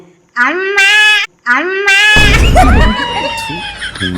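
A person's voice imitates a calf's cry with two drawn-out, loud bleating calls, then breaks into laughter and a strained wail, all close up.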